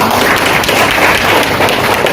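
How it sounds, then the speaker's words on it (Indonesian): Loud, close audience applause at an indoor business event in Samarinda, a dense steady patter of many hands for about two seconds. "tepuk tangan buat beliau"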